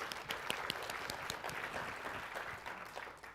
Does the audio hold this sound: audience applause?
yes